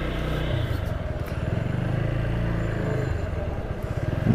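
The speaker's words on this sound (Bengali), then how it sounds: "ইঞ্জিনের সাউন্ডটাও অনেক সুন্দর আসতেছে।" An Apache RTR 4V motorcycle engine, freshly serviced with new oil, runs steadily at close range with a low, throbbing idle and slight rhythmic clatter throughout.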